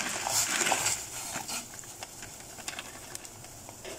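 Noodle water at a rolling boil in a pot: a faint, steady hiss with scattered soft bubbling pops and crackles, close by and without talk.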